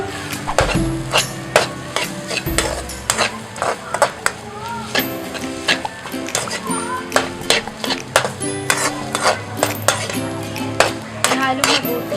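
Garlic, siling labuyo chili and spring onions are stirred in a pan, with a busy run of metal spatula scrapes and clanks over a light sizzle, close and fairly loud throughout.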